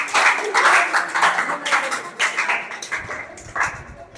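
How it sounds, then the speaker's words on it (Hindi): A classroom group claps for a student at a coaching centre's weekly test result announcement, brisk dense clapping that tapers into a few scattered claps, with faint talk underneath. "उसके बाद में विनीता बहन जी के लिए जोरदार तालियां"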